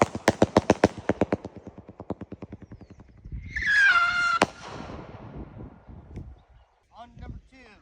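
A Ghost Chaser strobe firework going off: a quick run of sharp, evenly spaced pops that fade and slow, followed by a rushing hiss with a loud crack, then a few faint scattered pops.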